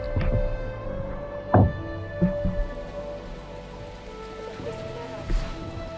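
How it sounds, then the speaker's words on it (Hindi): Rain falling steadily in a forest in East Sikkim at dusk, near a walking platform, a soft continuous patter with a few louder drips and thuds. "बारिश की आवाज"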